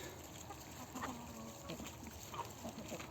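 Chickens and roosters cluck in a farmyard shared with geese, a few faint scattered clucks over a steady noisy background, distant and low.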